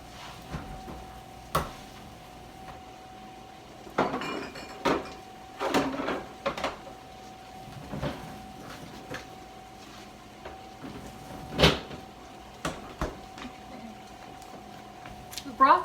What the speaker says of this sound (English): I'm going to go stick my sauces back in the fridge.